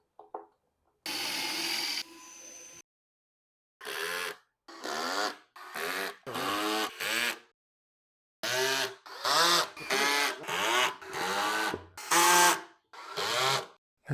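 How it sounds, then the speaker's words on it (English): Power drill boring pocket holes in wood, heard as a series of short loud whirring bursts separated by brief pauses, close and with no talking. "Drilled my first few pocket holes."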